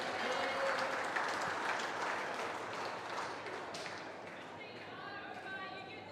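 Spectators clap from the far end of the green during a women's pairs knockout quarter-final in lawn bowls, faint and scattered under a commentator's talk, fading toward the end.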